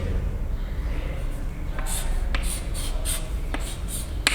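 Marker or chalk strokes on a lecture-hall board during an organic chemistry class, a run of short, quick rhythmic scratches with a couple of sharper taps over steady room hiss, no voice.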